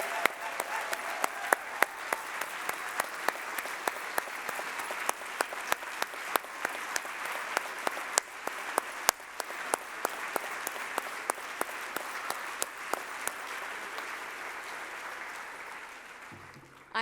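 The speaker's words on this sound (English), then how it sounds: "Please join me in another warm round of applause" Sustained applause from a large audience at an awards ceremony, steady and enthusiastic, with dense clapping throughout before fading out at the end.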